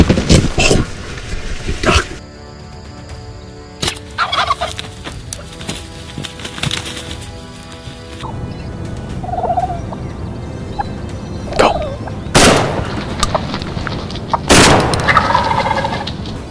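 Wild turkeys gobble amid hunting sounds outdoors, with sharp loud cracks and knocks breaking up the scene, a few short calls scattered between them and steady background noise throughout.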